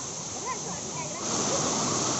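Dharamatam waterfall near Lambasingi, viewed from the top, gives a steady rushing roar of falling water that swells slightly louder toward the end, with faint background sounds over it.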